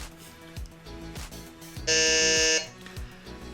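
A game show buzzer pressed by a contestant during a tie-breaking question blares once, a loud harsh electronic tone lasting under a second amid quieter background sounds.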